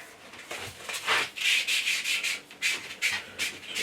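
Rubbing and wiping the shaft of a WG250 10-inch wet stone sharpening system during maintenance, a soft close-up series of repeated scrubbing strokes in uneven bursts, with no talking.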